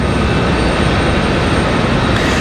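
A Southwest Airlines airliner sits at the end of the runway at stormy Raleigh-Durham International, its engines giving off a steady, loud broadband roar that holds even with no breaks.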